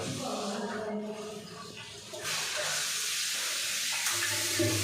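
Strong, steady hiss of water spraying hard from a shower head that was just cleared of clogged debris, a broad continuous rush filling the whole clip, growing louder partway through with no talk over it.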